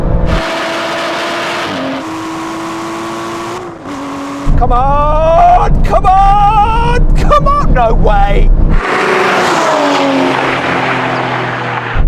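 Aston Martin V12 cars in a drag race, loud engines revving hard through quick gear shifts with rising and falling pitch, a roaring burst of acceleration, and an excited voice shouting over the noise.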